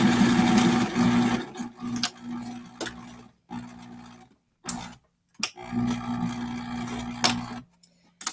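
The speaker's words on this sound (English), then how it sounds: "I'm going to sew around until I get to the end here and make sure my elastic's right at the edge." A sewing machine stitches a fabric face mask along its edge, running close in bursts of rapid mechanical ticking, pausing briefly and starting up again with no talking.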